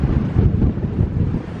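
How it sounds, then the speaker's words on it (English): Strong wind buffets the microphone on a hiking trail near Ogden Canyon, a loud, low rumbling roar that surges and fades in gusts with no voices. "Hopefully my microphone filter is filtering out a lot of the wind noise."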